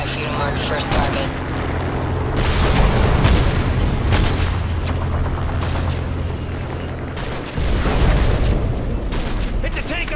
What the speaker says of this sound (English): The air corridor is clear for our A-10s to commence gun runs